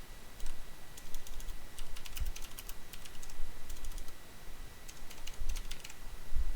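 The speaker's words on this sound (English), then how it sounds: "You're gonna hear me typing," Computer keyboard typing in bursts of quick key clicks, moderately close and steady across several seconds, with short pauses between runs of keystrokes and no talking.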